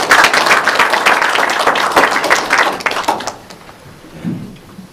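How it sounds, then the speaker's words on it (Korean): Audience at an open forum on AI gives a loud round of applause to welcome a speaker: dense, full crowd clapping that stops abruptly after about three seconds, leaving a quiet room with a faint low sound. "큰 박수로 모시겠습니다"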